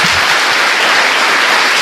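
A church congregation applauding, dense and loud continuous clapping filling the whole short moment with no letup.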